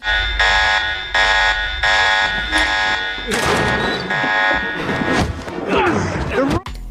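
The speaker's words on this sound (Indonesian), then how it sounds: "tiba-tiba saja alarm berbunyi" An alarm aboard a ship in a TV drama sounds in repeated pulsing bursts, then gives way to loud crashing and shouting voices before cutting off abruptly.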